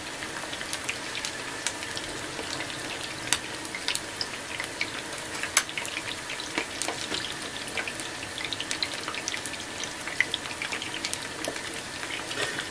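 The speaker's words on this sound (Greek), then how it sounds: "Τους αφήνουμε να τηγανιστούν από τη μία πλευρά." Meatballs sizzle in a frying pan, a steady dense crackle with sharp pops and spits scattered throughout, close and continuous with no talking.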